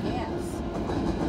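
A CSX mixed freight train with a mid-train DPU rolls past in Kingston, New York, giving a steady, close rumble with rail noise that holds throughout the short stretch. Faint voices sit in the background.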